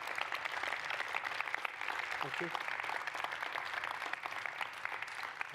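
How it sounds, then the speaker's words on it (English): Applause from a lecture audience at the close of an architecture talk, a steady mid-level patter throughout, with a brief spoken thank-you over it. "Applaudissements."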